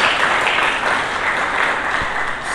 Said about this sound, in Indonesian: Mari kita berikan tepuk tangan kepada Yesus